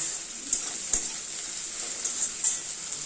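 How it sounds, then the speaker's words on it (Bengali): Sliced onions with a little salt fry in a pan for ghugni, giving a steady, moderately loud sizzling hiss with a few sharper crackles and pops scattered through. "পরিমাণ মতো পেঁয়াজটাকে ভালো করে একটু ভাজা ভাজা করব"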